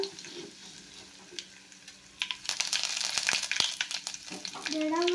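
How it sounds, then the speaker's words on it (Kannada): Fresh curry leaves drop into hot oil for a North Karnataka stuffed brinjal dish, and the sizzle bursts into loud, crackling frying up close. "ಈಗ ನೋಡ್ರಿ ಎಣ್ಣೆ ಕಾಯ್ದೈತಿ ಅದಕ್ಕೆ ಕರಿಬೇವು ಹಾಕೋತೀನಿ"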